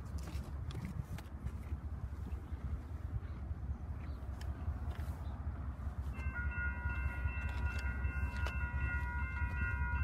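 A freight train rumbles past at a distance with a steady low roar, and a horn sounds near the end; no one speaks. Ogden Dunes, Indiana.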